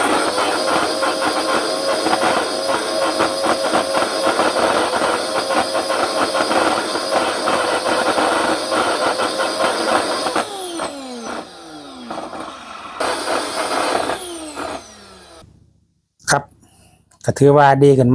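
An LG vacuum cleaner with a worn, faulty bearing runs with a loud, harsh motor drone and rattling whine for about ten seconds, then winds down unevenly and falls silent amid handling noises, with speech over it.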